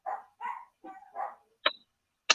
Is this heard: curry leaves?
no